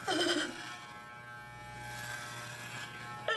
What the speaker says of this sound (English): you hear the shaver going.